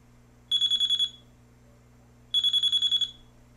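An eProbe EMF meter alarm sounds in two bursts of rapid high-pitched beeping, each about half a second of pulsed tones separated by a quiet pause, loud and close.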